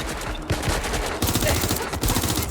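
Gunfire in the action video game Watch Dogs Legion, dense rapid bursts of automatic shots rattling continuously and loudly over a busy mix of game sound.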